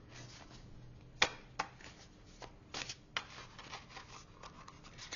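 Light Tarot cards are shuffled up close in a quiet room for a reading, making soft riffling, sliding and occasional snapping flicks.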